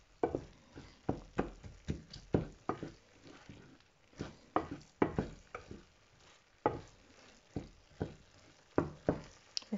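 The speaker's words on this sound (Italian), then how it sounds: "iniziamo appunto a mettere il restante brodo vegetale all'interno della padella" Vegetable broth going into pumpkin risotto in a pan, with rhythmic stirring scrapes and soft sizzling, quiet and close, repeating in uneven bursts.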